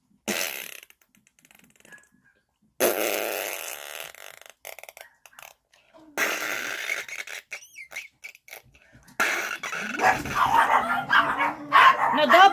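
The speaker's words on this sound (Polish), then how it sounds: "nie chciałam, żebyście szczekały" Yorkshire terrier puppies, about four and a half weeks old, give short, high, yappy barks in scattered bursts between pauses, fairly close and moderately loud, with someone talking at times.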